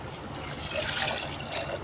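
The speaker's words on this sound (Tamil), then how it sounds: "பருப்பு முங்குற அளவுக்கு தண்ணி ஊற்றினா போதும்" Water pours over lentils in a cooking pot as a steady trickling, splashing stream lasting a couple of seconds, fairly close and fairly soft, with no voices.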